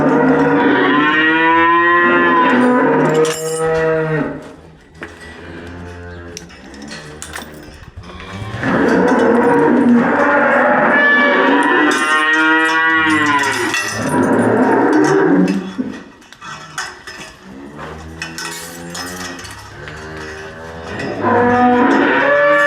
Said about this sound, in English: and then get the cows out